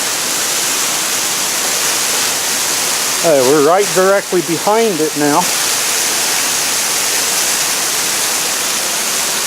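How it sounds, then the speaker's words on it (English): A waterfall on a creek along the Crispus Trail pours with a loud, steady broadband rush from very close, filling the whole stretch, while a person speaks briefly over it. "the creek goes down the canyon to all those other waterfalls you saw"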